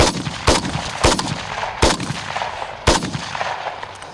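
An SR-3 Vikhr rifle fires five sharp single shots at uneven intervals during close-quarters tactical training, each loud crack followed by a brief echo.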